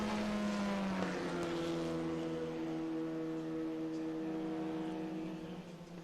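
Race cars roar off the start at Virginia International Raceway, a loud, sustained multi-engine drone with steady harmonic tones that eases slightly toward the end, with no talk.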